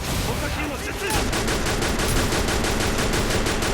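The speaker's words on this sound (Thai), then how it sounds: "ตรงนี้จะเป็นยิงเร็วนะผม" Rapid automatic gunfire in the shooter game Free Fire rattles off as a dense, continuous burst of shots, loud and close, with a brief softer stretch at the start.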